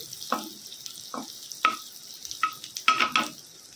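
Cashews and raisins frying in a pan, with a soft sizzle under a handful of short scraping stirs and clinks spaced through the clip, close and fairly quiet, no talk.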